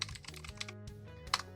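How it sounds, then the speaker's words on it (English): A rapid run of keystrokes on a computer keyboard, close and fairly quiet over a low steady hum, ending in one sharper key click. "and type localhost/phpMyAdmin."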